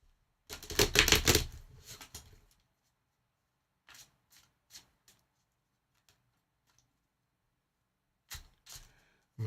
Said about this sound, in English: so I'll be shuffling these 9 times.